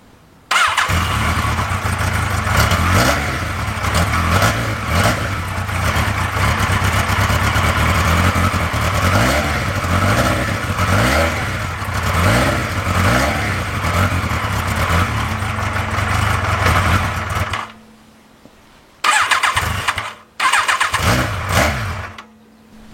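An engine revving hard and continuously at high volume with wavering pitch for about seventeen seconds, then cutting out into short silences broken by brief bursts as it restarts or sputters.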